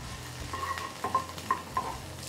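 Medium onion, finely chopped, sizzles in hot oil in a pan for diet chicken, with a few metallic scrapes and taps of a stirring spoon, close and moderately loud.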